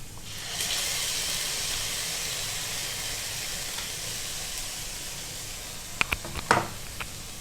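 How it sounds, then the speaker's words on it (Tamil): Blended beetroot and tomato paste poured into a hot pan gives a steady steam hiss and sizzle throughout, with a few brief clinks and splatters near the end; no one speaks. "அரைச்சி வச்சுருக்கோம் பீட்ரூட், தக்காளி, அதை வந்து ஊற்றுறோம்."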